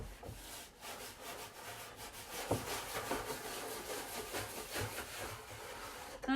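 Antiquing finish is rubbed into wood in circular motions, giving a continuous, close, scratchy swishing texture with faint knocks and no talking.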